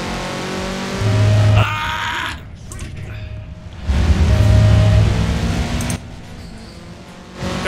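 Racing car engines in Forza Horizon 4 rev and accelerate hard in surging waves, loud and close, with a rising whine between bursts and a player talking over them.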